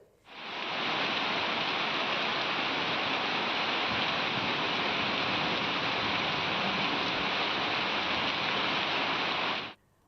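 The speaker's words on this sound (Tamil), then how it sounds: "தென்காசி மற்றும் கோவில்பட்டி சுற்றுவட்டார பகுதிகளில் 1 மணி நேரத்திற்கு மேலாக கனமழை வெளுத்து வாங்கியது." Heavy rain pours over the Tenkasi and Kovilpatti area, a loud, steady hiss of falling water that starts abruptly and holds evenly for about nine seconds before cutting off.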